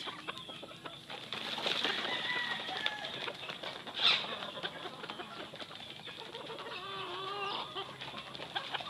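Young roosters (stags) clucking on a farm at feeding time, with wing flaps and scattered bird calls over a busy outdoor background.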